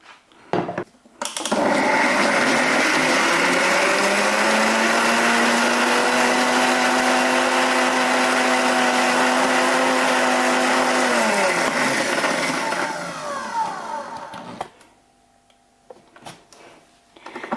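Spinach ground into a paste in an electric blender, a loud, steady motor whine that holds for about ten seconds, shifts pitch slightly, then winds down and stops, with a few handling knocks before and after.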